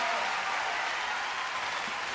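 A concert audience at a tribute to the OTI Festival applauds. The clapping is dense and steady, filling the full stretch without a break, and no one speaks.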